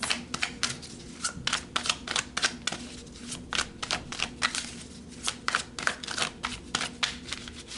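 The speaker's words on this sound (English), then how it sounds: "So let's pull some more cards." Tarot cards are shuffled and drawn close up, giving a rapid run of crisp flicking and riffling snaps in uneven bursts, fairly quiet against a low background.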